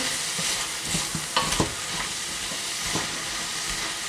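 Frozen green beans frying and being stirred in a pan for chicken noodle soup, giving a constant sizzle and hiss broken by a few scraping clatters of the utensil.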